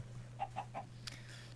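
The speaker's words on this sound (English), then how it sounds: "Oh, chicken." A chicken in the video game Minecraft gives three quick, faint clucks over a low steady hum, followed by a brief click.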